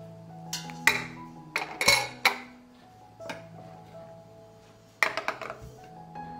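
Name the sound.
glass jars being placed in a pot on a cloth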